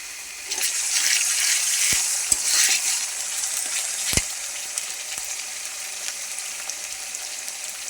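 Ginger-garlic paste goes into onions and bay leaves frying in a pan for a beef tripe curry, giving a steady, loud sizzle with a few sharp pops and scrapes, and no talking.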